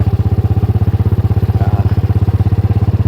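A motorcycle engine runs nearby, close and fairly loud, with a fast, even thumping pulse that holds steady throughout, like a settled idle, and no voices over it.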